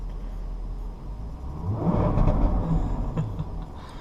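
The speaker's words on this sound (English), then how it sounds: "We're going to rev it first without the sport exhaust on." A 2017 Jaguar F-Type coupe revved while parked with the sport exhaust off, a single rising rev that swells to a rumbling peak and falls away over a steady low idle, with no talk.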